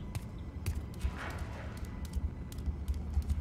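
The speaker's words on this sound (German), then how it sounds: "Ich höre Schritte." Footsteps in the horror video game Amnesia Rebirth, a steady series of soft dull thuds at walking pace, moderately close, with low ambient game noise around them.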